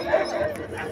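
A dog gives a short whining bark at a crowded pet show in Abbottabad, Pakistan, where many dogs are gathered. The yelp is brief and close, with background noise behind it.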